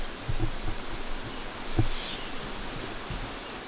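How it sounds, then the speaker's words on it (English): A clear creek flowing in the Columbia Gorge, a steady broadband rush of water heard close and continuous, with a few faint soft knocks. "I love the clear waters of this creek."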